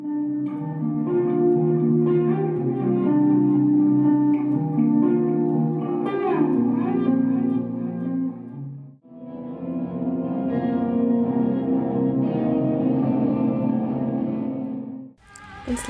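Electric guitar played through a delay pedal's reverse echo setting, sustained chords and swelling notes washing backward in a reverberant haze, loud and continuous, with a brief pause near the middle before the playing resumes.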